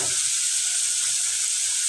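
Vegetable stems tossed into a pan of fried local shrimp set off a loud, steady sizzle of frying that holds evenly throughout with no voices.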